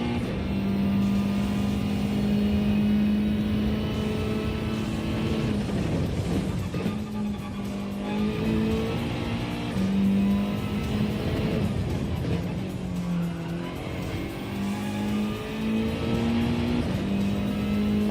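A Mazda race car in a racing video game holds a steady, loud engine drone that rises and falls slightly with gear changes, continuous throughout without talk.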